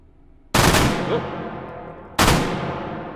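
A firearm fired in the VR shooting game H3VR: two loud, sharp gunshots about a second and a half apart, each ringing out in a decaying tail, with no talking.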